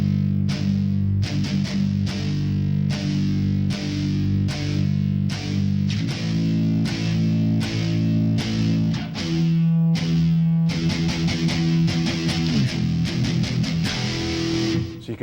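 A guitarist plays a heavily distorted electric guitar, palm-muting the strings with his hand for a run of tight, evenly spaced rock chugs, then letting brighter, more open chords ring near the end; loud, close and alone.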